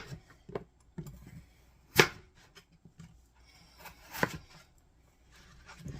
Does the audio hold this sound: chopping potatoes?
yes